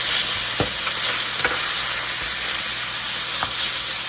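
Chicken and garlic stir-frying with cumin in a pan for restaurant-style egg fried rice, a loud continuous sizzle and hiss close up, broken by several sharp scraping stirs of the spatula.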